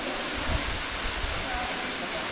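Tall Katibawasan Falls on Camiguin pours down in a constant heavy rush of falling water, loud and close, with a low rumbling churn underneath that swells slightly in places.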